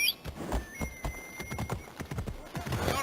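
A horse gallops in the video game Assassin's Creed Odyssey, with rapid rhythmic clip-clop hoofbeats close by and a brief whinny, all loud and dry with no talk.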